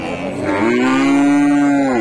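A Friesian heifer at the Hasokhali cattle market in Bogura gives one long, loud, close moo that holds steady for nearly two seconds with no talk around it.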